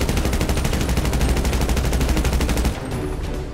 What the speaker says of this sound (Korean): 이번에는 특화 MK2 준비하시고 발사.